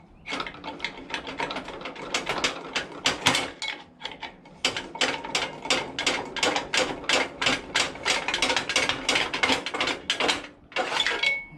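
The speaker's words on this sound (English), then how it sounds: "Take a couple pry bars, screwdrivers, whatever you got. Just start slowly working the flywheel off." Pry bars and screwdrivers work a flywheel off a VW Beetle engine, making a long run of sharp, rapid metallic clicks and scrapes in uneven bursts, close and fairly loud.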